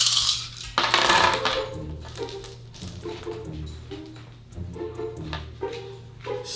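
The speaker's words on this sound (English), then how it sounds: "So the Empire will roll, dice yard sale, all 10 of their dice." A handful of plastic dice for the Star Wars: Rebellion board game clatter and tumble across a table, a burst of rattling hits followed by scattered clicks as they settle, close and crisp.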